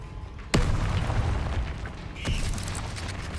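A heavy boom lands as the Descendo spell in Hogwarts Legacy slams an object down, followed by a rumbling, creaking tail and a second, lighter magical impact with a shimmering ring.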